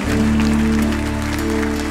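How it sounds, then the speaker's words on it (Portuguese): Church congregation applauding during a Sunday morning service, a steady wash of clapping over sustained organ or keyboard tones that hold throughout. "Pode aplaudi-lo"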